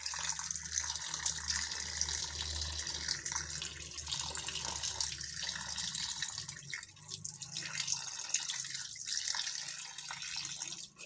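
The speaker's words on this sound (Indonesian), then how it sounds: "pakai air keran biasa." Ordinary tap water runs from a faucet while a mechanic rinses and cleans a part: a steady close splashing stream with shifting gurgles and drips as the flow strikes the object, continuous for about eleven seconds with no talking.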